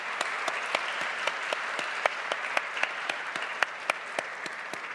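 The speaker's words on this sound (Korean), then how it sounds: "힘차게 박수로 축복하겠습니다." A church congregation at a Sunday young-adult worship service bursts into steady applause, a broad wash of clapping with sharp individual claps standing out, heard from a short distance with no talk over it.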